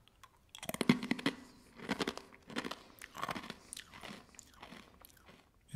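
Someone bites into a soy-glazed rice cracker and chews it up close, making a run of sharp, irregular crunches that fade to softer chewing.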